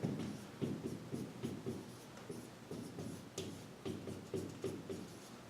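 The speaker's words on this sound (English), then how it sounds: "so let's write that down" Math is written on a board in soft, rhythmic scratching strokes, repeating quietly in short groups and heard close with no speech over them.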